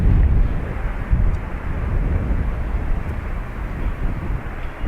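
Aer Lingus Airbus A320 taking off from Dublin Airport, a steady low engine roar with wind buffeting, continuous and fairly loud throughout.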